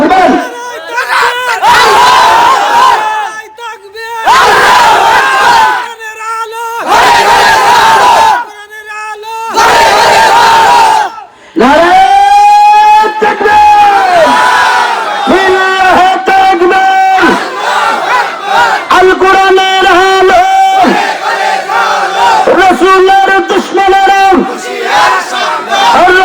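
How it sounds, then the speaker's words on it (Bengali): A large crowd at a Bangla waz gathering in Madhupur roars takbir chants in unison, repeated loud bursts with short gaps, then a sustained amplified voice leading over the massed response. "একজন একজন ভাই আপনি জোরে তাকবীর দেন দেখি"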